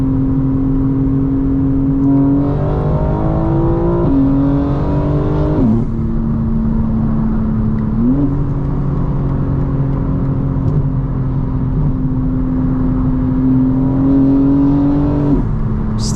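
A 900 hp 2025 BMW M4 Competition xDrive on new suspension revs hard while driving, its engine note climbing repeatedly through gears with brief dips at each shift, loud and close from inside the cabin, with no talk.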